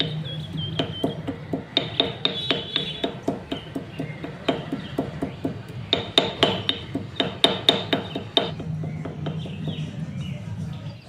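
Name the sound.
garlic, ginger and black pepper pounded in mortar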